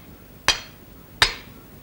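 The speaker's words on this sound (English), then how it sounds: "hold it so, and hit it with the hammer" A hammer strikes a metal rod twice to magnetize it. Each blow is a sharp, ringing clank with a short metallic decay, the two hits about three-quarters of a second apart.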